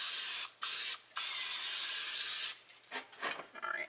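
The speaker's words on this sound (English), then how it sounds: "I'm going to spray it just to help with some of the sticking" Close, loud hissing bursts of cooking spray into a pan, two short and one longer, followed by softer scraping and rustling.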